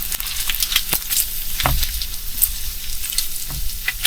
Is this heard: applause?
no